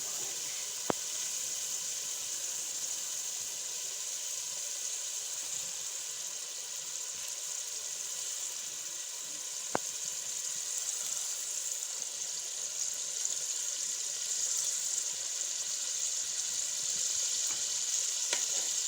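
Onions cooking under a lid in a pan for masala fish curry, a steady soft sizzle and hiss throughout with a couple of faint clicks, no voices.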